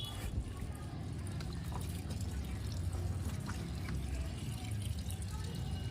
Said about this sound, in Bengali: ওর জন্য এখন জামা কাপড়টা ধুয়ে দেবো।